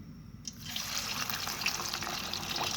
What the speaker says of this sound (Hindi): ऑयल गर्म हो चुका है। अब हम इसमें डालेंगे मछली।